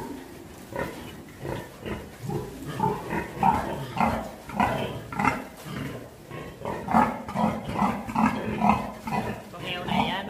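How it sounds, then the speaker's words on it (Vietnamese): A sow in heat on a pig farm grunts and snorts in rhythmic, pulsing bursts at close range, continuing throughout, with someone talking over the animal sounds. "Con heo này nó vẫn còn đi tới đi lui là chứng tỏ là nó lên giống"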